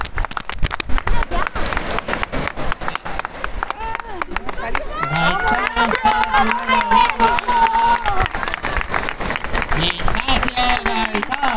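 Spectators at a winter open-water swim at San Pedro de Alcántara beach clap and cheer as swimmers reach the finish, with continuous crowd noise and shouted encouragement from voices close by.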